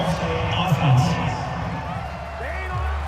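Dense roar of a large American football stadium crowd at a Steelers vs Bills game fills the background, with a commentator's voice talking over it.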